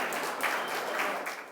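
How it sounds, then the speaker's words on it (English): An audience at a university anniversary ceremony applauds, steady dense clapping sustained throughout at an even level. "Round of applause, please."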